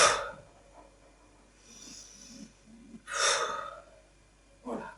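Forceful breaths pushed out through the mouth during a standing relaxation exercise, three loud breathy gusts spaced a couple of seconds apart, close and with no talk over them.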